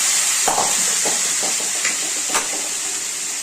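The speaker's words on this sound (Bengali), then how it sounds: "এখন এই ফোড়নটাই এই মশলার মধ্যে" Hot spiced oil tempering poured into a spice paste for a fish curry, giving a steady loud sizzle and hiss with a few soft clinks and stirring sounds, no talk.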